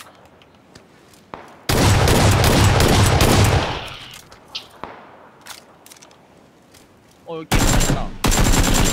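Gunfire in the battle royale game PUBG comes in two bursts: a long, loud stretch of rapid automatic fire, then a second blast of shots near the end, with sharp single cracks and brief speech in between.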